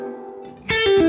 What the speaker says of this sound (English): It's basically a tube spring amp. Sorry, a tube amp spring reverb.